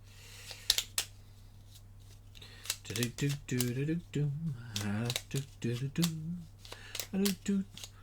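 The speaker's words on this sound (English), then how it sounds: "I'll be here all night shuffling these tiles" Game tiles for the Imperial Settlers roll-and-write board game being shuffled on a table, giving sharp, irregular clacks and rattles up close, with someone talking over much of the shuffling.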